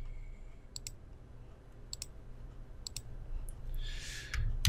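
A computer mouse clicks in small pairs at a steady pace, crisp and close but faint, over a low hum, with a soft rustling swell near the end.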